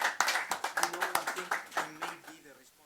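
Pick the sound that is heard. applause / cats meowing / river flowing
applause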